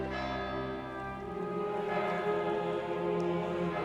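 A church tower bell tolls in the video game Kingdom Come: Deliverance II, its sustained ringing layered with rich overtones that hang continuously under a faint, steady patter.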